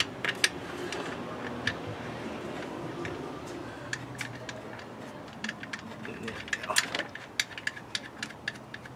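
Oil drain plug being threaded back into a Honda CBR600RR motorcycle, giving close, quiet metallic ticks and ratcheting clicks over a steady low background, sharper taps clustering near the end.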